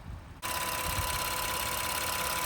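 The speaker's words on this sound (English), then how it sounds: "So the engine's running pretty smooth." A 2017 Honda Pilot engine idles steadily after direct injection valve cleaning, a smooth continuous hum that starts abruptly and holds at an even level, with no voices.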